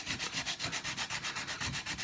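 Coarse sandpaper works over wood to strip excess sawdust and glue, making close, fast, even rasping strokes, about eight per second, with no voice over it.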